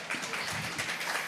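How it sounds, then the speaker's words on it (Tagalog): A brief burst of audience applause, with many hands clapping in a steady, moderately loud patter for just over a second. "Palapakan natin itong tatlong ito."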